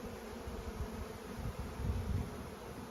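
Honey bees buzz in a dense, continuous drone around hive boxes during the last honey harvest, close and steady throughout.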